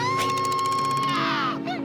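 A woman screams in a cartoon, a sustained loud high shriek lasting over a second with a wavering pitch, sliding down toward the end, followed by a brief shorter cry.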